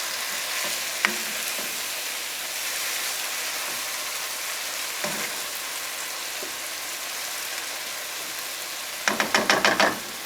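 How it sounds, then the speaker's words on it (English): Butter melting in a hot pan of fried cabbage with kielbasa gives a steady, moderately loud sizzle that runs throughout, broken by a few soft knocks and a quick burst of spatula clatter near the end. "the butter's melting really nice"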